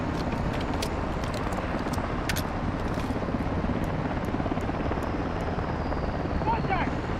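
A military helicopter in a Call of Duty campaign mission keeps up a low, continuous rotor drone under sharp clicks and distant game effects, with no spoken words in the stretch.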